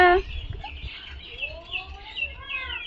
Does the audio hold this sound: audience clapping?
no